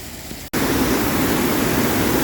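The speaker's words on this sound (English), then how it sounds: "You can hear the water coming through the small dam here beneath us." Water rushing through a small dam beneath a bridge by a castle in Örebro, a steady broadband roar close and loud throughout, with one brief dropout.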